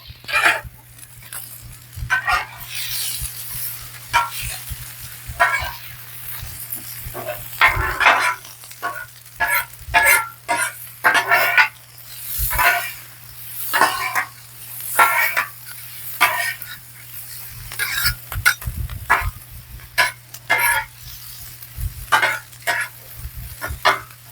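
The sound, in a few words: French fries frying and being stirred on a Blackstone griddle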